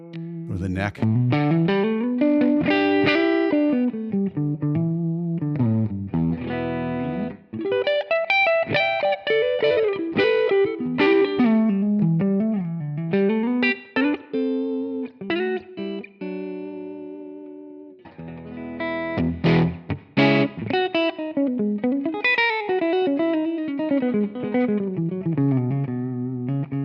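Gibson 335 on its neck pickup feeding a Line 6 Helix amp model at default settings, playing melodic lines of bending, sustained notes and quick flurries with a couple of short pauses, upfront and solo.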